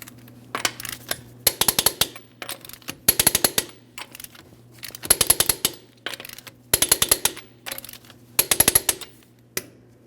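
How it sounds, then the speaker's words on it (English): An impact or clicking torque wrench works on the rear wheel lug nuts of a 2005-2010 Chrysler 300, tightening them to 140 foot-pounds in a crisscross order: sharp rattling bursts repeat in short clusters with brief pauses between, close and loud. "We're going to torque these to 140 foot-pounds in a crisscross manner."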